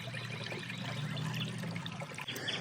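Water pours and trickles steadily into an above-ground pool, a continuous close splashing rush with no talk.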